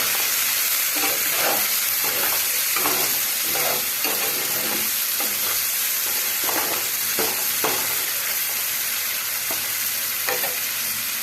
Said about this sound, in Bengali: এবার আমাদের মশলাটা ভালো করে নাড়াচাড়া করে হবে